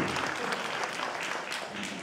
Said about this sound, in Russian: Подарите вас аплодисменты Андрюхе Коту.